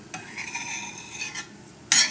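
A utensil stirs panko breadcrumbs toasting in butter in a pan, giving soft scraping strokes, a few light clinks, and a louder scrape at the end, all close and without talk.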